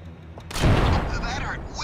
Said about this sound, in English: Use the spear gun to hit each of them.